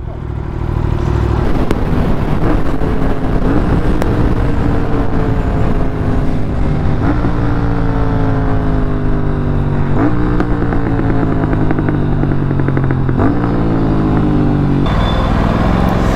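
An Aprilia RS457 motorcycle fitted with a loud aftermarket exhaust rides along, its engine note climbing repeatedly through the gears with rising whines and brief dips at each shift, loud and close throughout.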